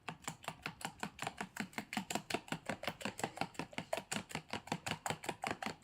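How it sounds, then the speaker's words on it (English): Spoon vigorously whisking cookie batter in a bowl, a fast, even run of sharp clicking strokes, close and fairly quiet, repeating steadily throughout with no talk. "let's go back to vigorously whisking this with a spoon"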